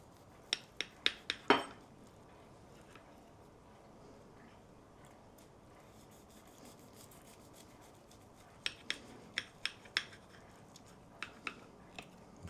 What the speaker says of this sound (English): I'm gonna cut off a slice and plate it up and see what it looks like on the inside.